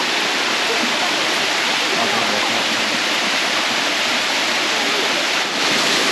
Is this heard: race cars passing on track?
no